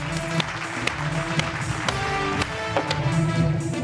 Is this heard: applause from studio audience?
yes